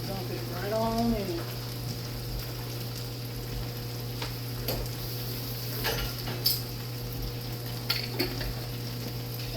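Spaghetti sauce poured into a pan of pasta sizzles steadily up close, with a few sharp clinks of a utensil against the pan over a constant background hum.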